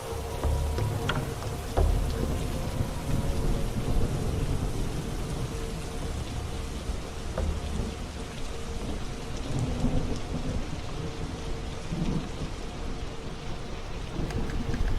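Heavy rain pours steadily while low thunder rumbles and rolls through, a dense, continuous storm with no voices.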